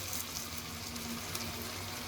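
Eggplant sautés in a spicy, tangy masala, giving a faint, steady bubbling sizzle that stays even and close throughout, with no voices.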